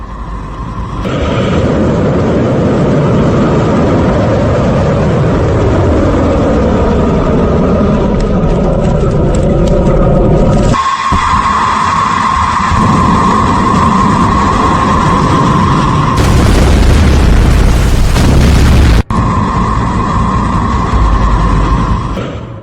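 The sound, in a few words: Iranian missile test launch and explosion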